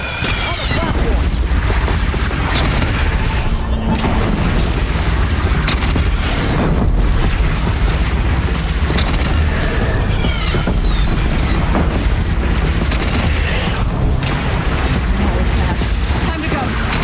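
Cannon fire in the Horizon video game: dense, continuous booming and crashing over a loud, busy battle din with no gaps, voices mixed in.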